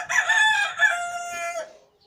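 A rooster in a backyard poultry run crows once, a loud, close, drawn-out cock-a-doodle-doo that rises, holds and trails off, heard alone.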